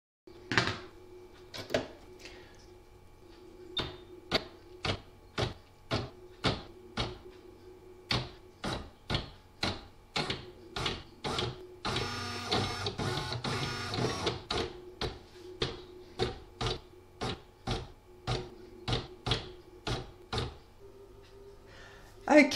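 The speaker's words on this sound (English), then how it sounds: "it's going to do the edging in the satin stitch now" An embroidery machine sews a satin stitch edging around a spider web design, giving a long series of evenly spaced mechanical thumps with a denser, continuous burst of rapid stitching in the middle, close and clear with no talking.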